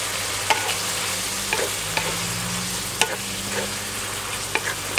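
Glass noodles stir-fried with holy basil and minced pork in a hot pan, a steady close sizzle broken by periodic sharp scrapes and clanks of the spatula.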